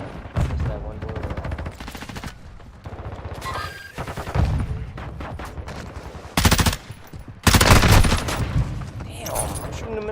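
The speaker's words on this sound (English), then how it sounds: "Damn, I'm shooting him in the head, man." Gunfire in the Call of Duty Modern Warfare video game: repeated loud bursts of automatic fire and sharp single shots throughout, punchy and close, mixed with someone talking.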